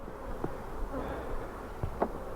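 Honey bees buzz around a hive that has been flipped over, a soft, steady insect drone with a few closer passes rising briefly above it, faint and without talk.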